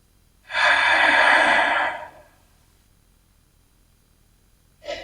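During a yoga session, a single long, strong breath of about a second and a half rushes out alone, then silence, with a brief breath sound starting at the end.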